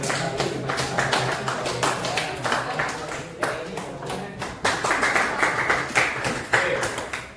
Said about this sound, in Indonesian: Kita kasih tepuk tangan untuk semuanya yang sudah mengerjakan